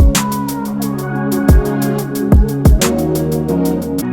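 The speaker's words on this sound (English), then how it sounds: "I added a second snare here just to complement the first one." RnB drum beat with swung rhythm and two layered snares, snare hits landing with sharp full cracks over steady hi-hat ticks and a sustained bass and synth bed, loud and close with no voices.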